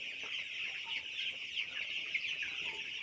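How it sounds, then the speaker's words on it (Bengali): Broiler chickens on a poultry farm cluck and chatter steadily as a dense flock while feeding, with a continuous murmur of many birds close by and no talk. "এই দেখতেছেন মুরগি খাদ্য খাওয়ার জন্য কি করতেছে"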